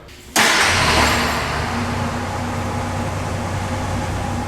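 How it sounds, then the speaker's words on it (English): A carbureted car engine is started hot with a turn of the key. It catches at once with a loud burst, then settles into a steady, even idle close by. "Now I'm going to turn the key and see how it starts up."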